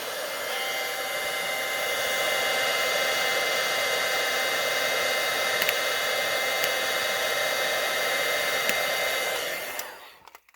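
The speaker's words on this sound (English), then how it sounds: "you bring in a heat tool and you give it a little bit of heat" Heat tool blowing hot air over craft paper on a poinsettia gift card holder, a steady loud whooshing roar held for about ten seconds before it cuts off abruptly.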